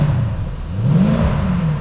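Mercedes SLK55 AMG with its 5.5-litre V8 revs up and falls back once, a steady, close, loud engine note rising in pitch and settling again, with no talking.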